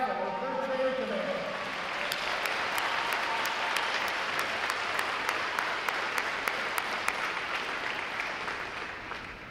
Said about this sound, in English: How about a round of applause for family and the staff of Recruit Training Command?